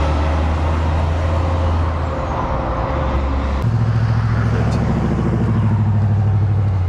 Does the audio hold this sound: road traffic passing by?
yes